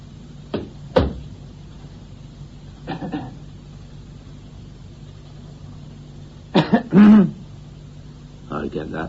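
Coughing and throat clearing in a live radio drama: a few short, sharp coughs early on, then a louder cluster of harsh coughs around the middle-late stretch, each burst separated by quiet room tone.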